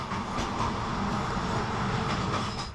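A train rumbles steadily along the tracks in Romania, with a constant roar and faint rhythmic clicking of wheels, heard from close by inside the train.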